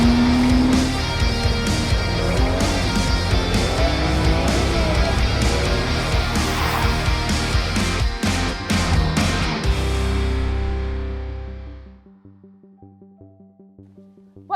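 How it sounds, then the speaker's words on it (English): A loud Porsche 996 911 Carrera 2 water-cooled flat-six engine revs hard and howls for several seconds, pitch shifting through gears, then fades away to a quiet idle. "you can hear that howl of the flat six hanging over the rear wheels there"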